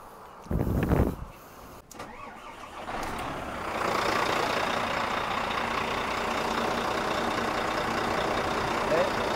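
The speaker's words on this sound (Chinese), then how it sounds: "来发动试看看" A car engine cranks to a start in a brief loud burst, then settles into a steady, moderately loud idle after an exhaust pipe cover has been fitted, with a voice speaking near the start.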